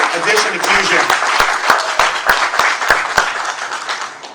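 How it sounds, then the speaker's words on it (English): Crowd applause welcoming a new staff member at a ribbon-cutting event for a family center, dense steady clapping with a few sharp individual claps standing out, voices murmuring beneath throughout. "Let's give a big round of applause for Robin and her addition to Fusion."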